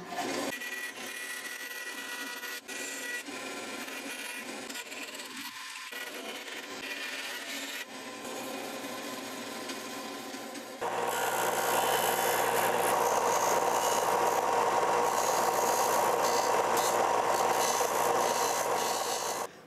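Hand cutting of a wooden fishtail lure pattern for a sand-cast lure mold: steady rubbing, sawing strokes close by, growing louder and denser partway through and continuing without talk.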